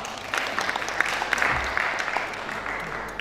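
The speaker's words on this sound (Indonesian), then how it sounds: "Tepuk tangan" Guests at an inauguration ceremony for Pertamina staff in Dumai clap in a moderate round of applause, close individual claps standing out over the crowd, fading toward the end.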